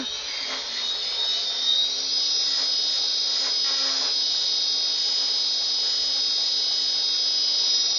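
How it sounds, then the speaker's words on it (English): A wood lathe spins while a parting tool cuts a turned wooden Christmas tree, a loud, sustained high-pitched whine with a faint scraping texture early on that holds steady throughout, with no voices. "Now I'm going to take my parting tool and make the trunk a little bit longer."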